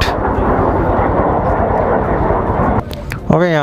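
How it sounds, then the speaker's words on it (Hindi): A fighter jet roars overhead in Leh, a loud, broad rush of engine noise that cuts off sharply, followed by a person speaking. "Fighter jet."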